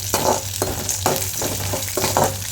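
Chopped green chillies fried in a pan for lemon rice are stirred through the oil, giving a steady sizzle with regular scraping strokes, close and fairly loud, with no talk.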